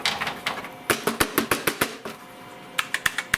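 Shaking a 1985 Compaq Portable PC keyboard produces a rapid series of sharp plastic clacks and rattles, near and loud, in uneven bursts with brief pauses.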